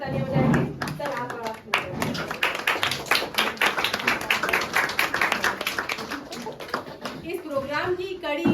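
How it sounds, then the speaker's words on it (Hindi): Audience members at a consumer welfare programme clap loudly and continuously in a steady, crowded patter, with a host speaking over the applause. "हम जोरदार तालियां बजाएंगे"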